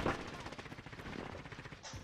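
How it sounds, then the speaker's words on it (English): Rapid bursts of automatic gunfire in a Warzone-style battle royale video game, a dense rattling string of shots running continuously at moderate distance with no talk over it. "You hear that shooting?"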